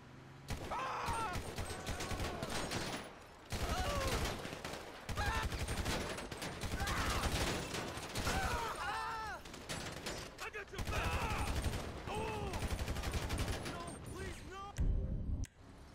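Sustained gunfire in Grand Theft Auto V, heavy bursts and volleys that fill nearly the whole stretch, loud and close, with a few short gaps and voices shouting over the battle.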